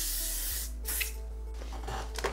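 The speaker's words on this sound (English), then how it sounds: "Don't use hairspray like this, always like this." Hairspray hisses onto styled hair in a strong, steady spray up close, followed by quick brushing and rubbing sounds as the hair is handled.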